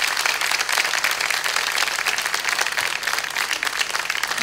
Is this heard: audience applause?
yes